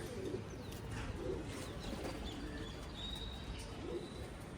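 Pigeons coo in a breeder loft, soft repeated low burbling calls rising and falling through a steady murmur of many birds, with faint chirps above.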